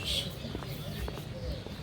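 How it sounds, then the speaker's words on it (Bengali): Birds chirp faintly outdoors at a resort in Gaibandha on an afternoon, with a brief high call near the start and a few scattered tweets over a steady background hum. "পাখির কিচিরমিচিরের ডাক"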